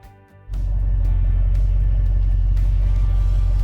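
A 1965 Jeep Wagoneer fitted with off-road lights cruises along a road, its engine and road rumble forming a steady, loud low drone after a quiet start.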